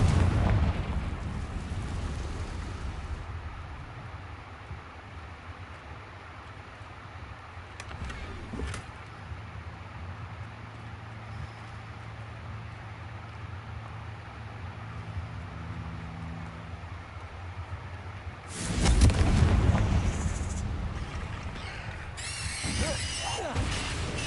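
Confringo spell blasts in the Hogwarts Legacy game, with booming explosions and rumbling impacts, a big burst at the start and another strong one near the end, with game sound between.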